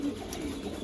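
Pigeons give a brief, soft, low coo in a young bird loft in a Texas backyard, faint and close, with no talking.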